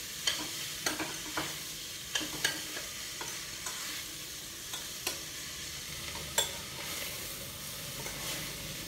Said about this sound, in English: Allow to fry for 2 minutes